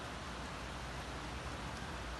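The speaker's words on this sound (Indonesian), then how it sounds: "Sudah dari tadi malam sampai mau masuk malam lagi menjelang maghrib di sini hujan." Light rain falling in Ruwais, UAE, a steady even hiss of drops with faint low rumble beneath and no voices.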